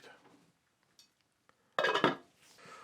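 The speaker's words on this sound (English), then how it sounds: "I'm going to put the lid." A lid is set onto a slow cooker pot of Royal Navy style stew, giving a brief, close clatter of ceramic or metal with a short ringing clink, after a few faint taps.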